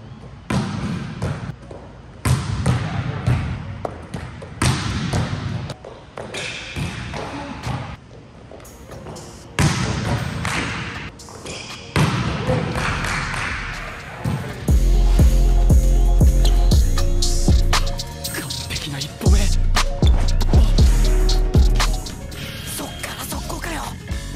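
Volleyballs struck during indoor warm-up hitting before setting practice, with repeated sharp smacks and thuds echoing in a gym, loud and close, layered over steady hall ambience and a few faint voices.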